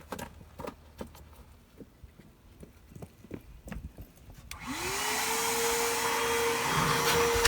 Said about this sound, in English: Step 2, after you clean all the junk out and blow it out,